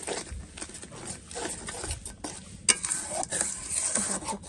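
A chili-powder masala is sautéed in a pan, with uneven scraping and stirring strokes over a light sizzle and a sharp metallic clack midway, and no voices.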